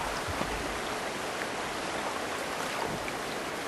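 Whitewater rapids rush around a canoe in a steady, loud broadband roar of churning water close by, unbroken throughout.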